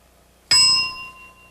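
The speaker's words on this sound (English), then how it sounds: "start your description when you hear the bell" A single bright bell ding signalling the start of a game show description round, struck sharply and ringing out with a slowly fading tone, alone in an otherwise quiet room.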